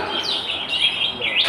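Songbirds kept for singing contests chirp in quick, high, continuous bursts, close and fairly loud over a busy background.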